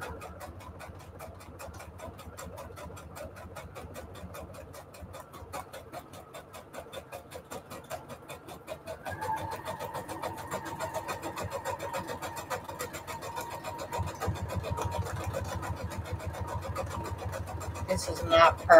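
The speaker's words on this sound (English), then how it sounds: "I'm just using my little sewing machine here for a minute." A small sewing machine stitches paper journaling cards in steady rapid bursts, its motor whirring nearby and speeding up partway through.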